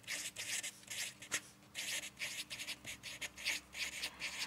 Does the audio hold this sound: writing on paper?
yes